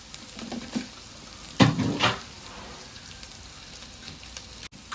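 Ginger, garlic and green chillies dropped into hot oil for biryani, a short loud sizzle and stirring burst with a second flare just after, then a soft steady frying hiss.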